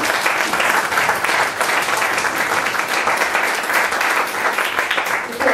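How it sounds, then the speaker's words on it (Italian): An audience at an evening concert applauds the organizers with loud, dense, continuous clapping that stays even and sustained throughout, close and full. "farei un applauso di questa serata"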